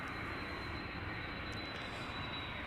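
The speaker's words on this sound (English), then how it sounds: "This is Turkish flight 1951, arriving from Istanbul." Steady, loud broadband roar of a Turkish Airlines Airbus A330-300 arriving at Amsterdam Schiphol, a constant engine rush with a faint high whine throughout.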